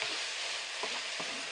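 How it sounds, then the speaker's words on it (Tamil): Okra gravy bubbles and sizzles in a pan, a steady bright frying hiss with a couple of soft stirring or popping bursts near the end, heard alone without talk. "கொட்டிட்டு ஒரு 2-3 மினிட்ஸ் ஒன்றா சேர்ந்து எல்லாம் கொதிக்கட்டும்"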